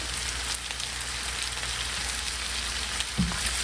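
Shrimp fry in a pan for shrimp fried rice, giving off a steady, moderately loud sizzle with a soft clatter near the end and no talking.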